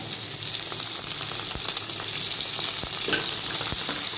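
Onion and curry leaves frying in hot oil give a loud, constant close-up sizzle and crackle, with faint stirring taps now and then and no voices.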